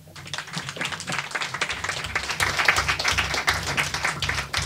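An audience at a political panel gives sustained, dense applause for the speakers, a continuous patter of many hands clapping that swells slightly partway through.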